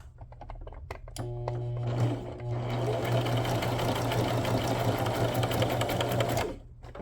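A faulty sewing machine stitches a tuxedo pocket in a fast, steady whirring run for several seconds after a few clicks, then stops abruptly.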